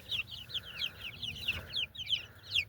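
About 20-day-old chicken chicks in their new coop give a rapid series of high, short peeping chirps close by. The chirps repeat in uneven bursts over a low background murmur.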